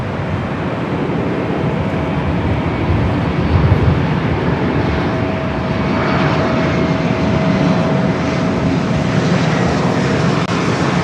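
Embraer E-Jet airliner at Los Angeles International Airport, a loud, steady jet engine roar holding at constant level throughout with no talk over it.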